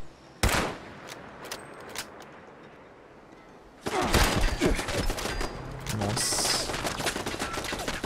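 Automatic turret fire in Fallout 76: a sharp burst near the start, then a few isolated shots, and from about four seconds on a dense, loud run of rapid gunfire with layered impacts and a high mechanical whine.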